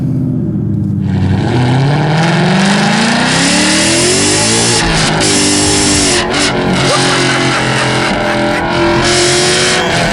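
A 2015 Ford Mustang GT V8 accelerates hard from inside the car, loud and continuous, the engine note rising steadily through the revs before a brief shift and climbing again.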